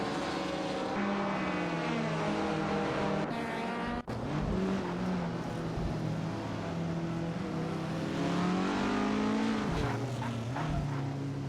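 Race car engines drone and whine continuously in a racing video game with classic cars such as a Mercedes-Benz 300 and a Chrysler Valiant Charger, pitches rising and falling as several cars pass close.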